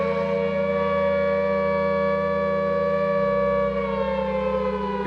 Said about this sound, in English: in the film they used a Second World War siren